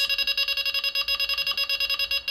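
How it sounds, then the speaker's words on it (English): Rapid electronic beeping, about ten beeps per second, steady and evenly spaced, a high-pitched tone repeating for a couple of seconds. "I'm now getting far less beeps for the amount of movement."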